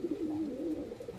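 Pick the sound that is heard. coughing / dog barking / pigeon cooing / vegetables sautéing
pigeon cooing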